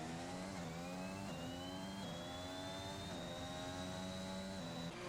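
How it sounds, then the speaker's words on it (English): Formula 1 race cars in an Xbox F1 game at Suzuka, engines screaming with steady high revs and rising pitch sweeps as cars pass through the hairpin, loud and continuous with no talk. "Hulk Smash still out on track right now, coming through the hairpin."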